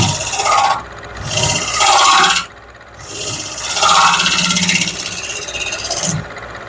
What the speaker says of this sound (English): I'm going to clean up the edge of my tenon with a point tool.